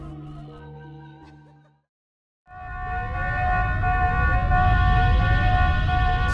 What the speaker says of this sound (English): As warning sirens blare throughout the facility